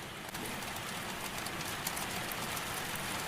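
Steady, soft rain falls in an even hiss, a constant gentle wash with no rhythm or breaks and no voices.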